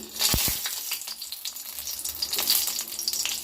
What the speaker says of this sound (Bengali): এর মধ্যে একটু সর্ষের তেল দেব তেলটা গরম হয়ে গেছে লঙ্কাগুলো দিয়ে দিই